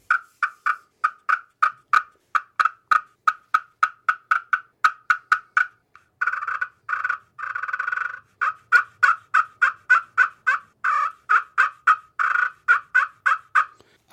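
Black walnut turkey call worked by hand, giving a long run of sharp, evenly spaced yelps and clucks, loud and close, with a short stretch of raspy drawn-out purrs in the middle before the quick yelping resumes.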